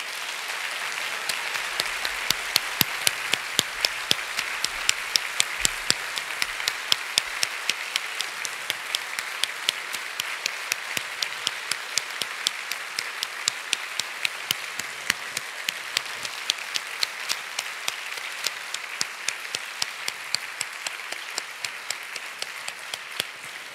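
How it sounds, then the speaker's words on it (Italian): Sustained applause from an audience at an Italian stage event opening, dense steady clapping continuing evenly throughout with no speech over it. "questa sera è sicuramente una persona che noi vogliamo ricordare con l'applauso"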